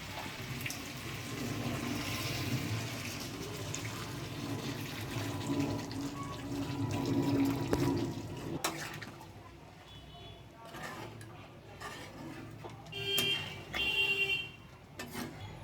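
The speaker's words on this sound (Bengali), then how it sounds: "এবার জল দিয়ে দেবো গরম জল দিতে হবে" Hot water pours into a pot of mutton curry, a sustained gushing splash for several seconds that then gives way to quieter clinks and bubbling.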